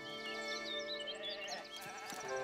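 Sheep bleat in a city-building video game, several wavering calls overlapping against a steady game music bed, moderately loud and close.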